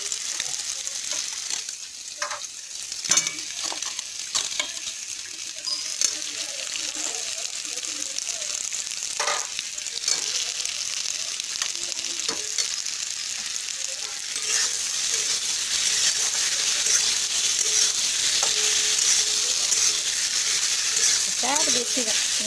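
Fried potatoes are being stirred into a cooked-down spice masala curry in oil. A loud, continuous sizzle runs under repeated scraping stir strokes, and the frying grows louder toward the end.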